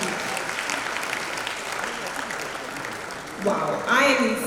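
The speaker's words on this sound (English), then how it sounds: "Can we applaud her one more time?" An audience at a social innovators awards ceremony applauds steadily for several seconds, and the clapping swells near the end as a voice begins speaking over it.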